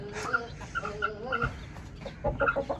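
A rooster clucks and squawks up close in a run of short, sharp, nasal calls that come in bursts with brief gaps between them.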